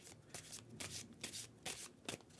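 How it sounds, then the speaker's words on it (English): A deck of tarot cards is shuffled by hand up close, with several quick riffling bursts in an uneven rhythm over a quiet background. "All right, let's get it shuffled for you."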